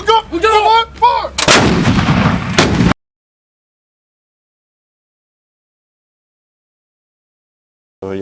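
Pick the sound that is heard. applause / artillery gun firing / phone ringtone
artillery gun firing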